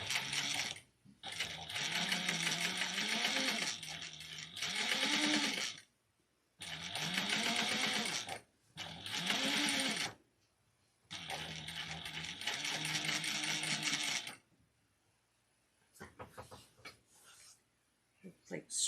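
Sewing machine stitching a vintage-style handbag, running in repeated bursts of a few seconds each with short pauses between, close and steady, then quieter handling near the end.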